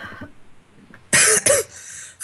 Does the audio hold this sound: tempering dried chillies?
no